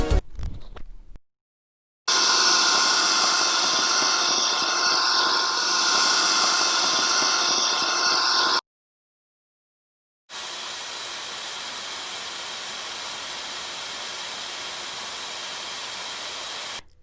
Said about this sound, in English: the difference between a regular hairdryer and the Dyson